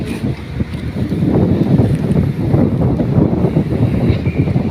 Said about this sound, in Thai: ลมพัดมาฝั่งนี้ครับ ฝุ่นแน่